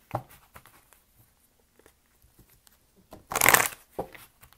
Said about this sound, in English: let's go ahead and shuffle love cards